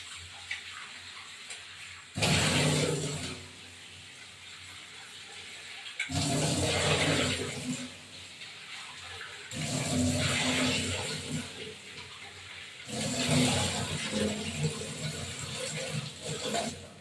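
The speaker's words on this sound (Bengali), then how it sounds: "এই যে নুন মাখিয়ে এই যে মাখাচ্ছি নুন মাখিয়ে ধুচ্ছি" Rohu fish being washed with salt and water, with three separate bouts of splashing, running water that come close and fairly loud, separated by brief quieter pauses.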